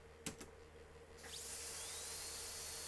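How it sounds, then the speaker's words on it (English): A drill in the SVHS video game: a couple of sharp clicks, then a loud, high-pitched drilling whine starts and holds steady to the end, with a rising tone briefly sweeping through it. "Oh, I hate that sound. The sound of a drill."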